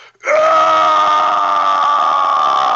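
A narrator's voice imitates an orc warlord's battle scream in a sewer tunnel, one loud, sustained, raspy roar that starts abruptly after a short silence and holds at full strength to the end.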